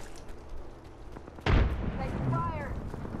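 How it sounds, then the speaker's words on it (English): A frag grenade detonates in a fast-paced shooter, a sudden sharp blast that cuts through background game noise and is followed by a rumbling tail, with sharp electronic chirps trailing after it. "Frag grenade sent."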